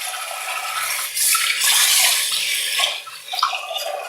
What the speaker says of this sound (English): Now I'm going to wash the rice